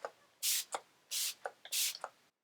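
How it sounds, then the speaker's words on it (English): Fix Plus setting spray misted onto a face in three close, hissing bursts, each about a quarter second long, with small clicks of the pump between them and no talking. "all you have to do is spray your face with Fix Plus and the look is done."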